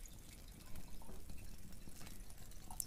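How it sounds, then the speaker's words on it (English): A water glass is being filled, with a soft continuous pouring and trickling of liquid, faint and close, with small splashes over a quiet room. "Let me just fill my water glass"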